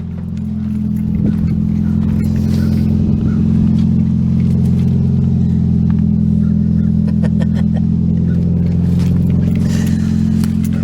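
Auction car fitted with an aftermarket exhaust, idling steadily with a loud, deep, even drone throughout, close by, with small clicks and rattles over it.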